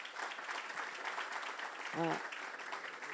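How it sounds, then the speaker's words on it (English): A conference audience at a real estate emerging leaders event applauds faintly and steadily, a soft distant wash of clapping with a brief voiced sound partway through. "Let's give her a huge round of applause"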